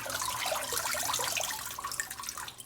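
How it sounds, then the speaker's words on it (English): Green onions rinsed under a running kitchen tap, a steady close splashing stream of water with small irregular spatters as the stalks move through it, with no voice. "just going to give them a quick rinse"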